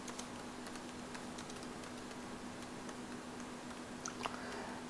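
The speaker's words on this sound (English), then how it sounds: "One way I could do is just type in the data." Computer keyboard typing data, a steady patter of quick, light key clicks close to the microphone with a faint constant hum underneath.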